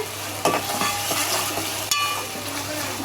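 Ginger garlic paste fries in hot oil in a pan: a dense, loud sizzle with a spoon scraping and stirring, and two sharper bursts where the paste is turned.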